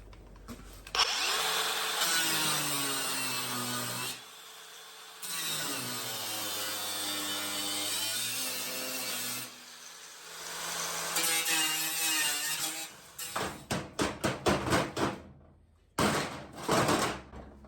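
Power tool cutting metal off the seat of a 1972 VW Super Beetle, long loud whining runs broken by pauses, then a string of short stuttering bursts and a final burst, close in a workshop.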